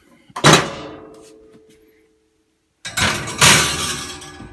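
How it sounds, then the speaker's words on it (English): A plate chiller is set into a home convection oven, giving two loud clattering metal-on-rack bursts separated by a silent gap, close and with no talking. "you just put it in the oven"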